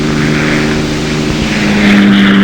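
North American P-51 Mustang single-engine propeller fighter flying, a loud steady droning engine roar with a strong low hum that swells slightly toward the end.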